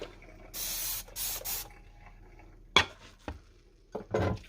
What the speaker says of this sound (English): I find it's easy when I just spray the dishes that need to be sprayed